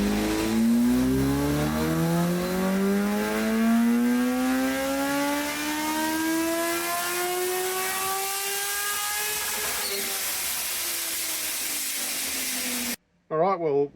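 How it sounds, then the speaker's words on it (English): A Kawasaki H2SX supercharged motorcycle engine runs on a dyno, its tone climbing steadily in a long, loud wide-open pull for about ten seconds before the revs drop and the engine winds down; a brief burst of other sound follows at the end. "we do our dyno run"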